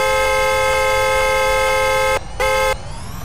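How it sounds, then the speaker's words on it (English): Car horn in a Roblox game blaring in one long sustained honk, cutting off briefly and then sounding again before stopping, loud and close with no talk over it. "why is that person honking so much"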